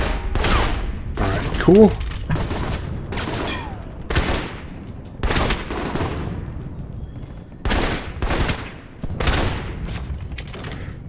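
Assault rifle gunfire in the video game Alpha Protocol: several sharp bursts of rapid shots, separated by short pauses, loud and close. A voice speaks briefly between the bursts.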